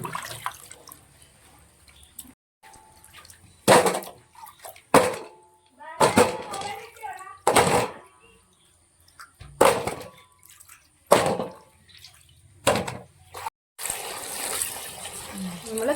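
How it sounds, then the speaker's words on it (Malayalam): Peeled cassava (tapioca) being washed by hand in a basin of water, with intermittent splashes and drips between quiet pauses, close and moderately loud. "നമ്മൾ കപ്പ നന്നായിട്ട് കഴുകി എടുക്കുവാണ്"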